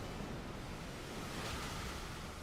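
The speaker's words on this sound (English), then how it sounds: "Okay, Muddy Water." Pokemon's Muddy Water attack in a video game: a steady, dense rushing wash of water noise, loud and unbroken like surging waves, with no voices over it.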